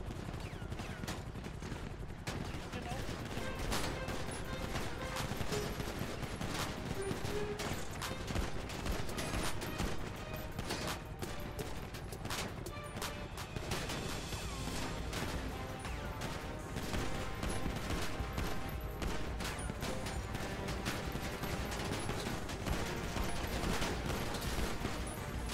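Sustained heavy gunfire in GTA 5 roleplay, a gang shootout with continuous overlapping shots and bursts, loud and dense throughout with no clear talk.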